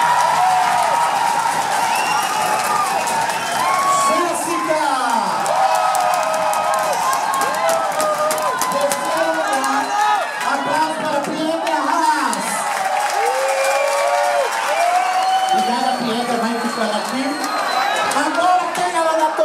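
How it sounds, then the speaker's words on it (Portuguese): A club crowd at a drag competition final cheers and applauds for drag performer Pietra, a steady dense wash of clapping with whoops and shouting voices rising throughout, loud and continuous. "Vamos lá, aplausos."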